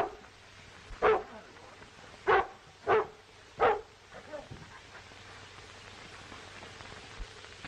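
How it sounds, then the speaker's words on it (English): A dog barks four times in close succession, loud and sharp, in an indoor setting with faint background hiss and quiet rustling afterward. "That dog isn't barking for nothing."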